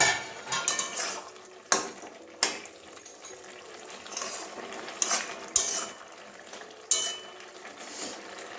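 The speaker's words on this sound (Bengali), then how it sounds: "এবারে ঢাকনাটা খুলছি আলু সিদ্ধ হলো কিনা দেখি" A cooking pot lid is lifted off a simmering pot of palak paneer with potatoes, giving a few sharp metallic clanks and rattles over quiet kitchen background.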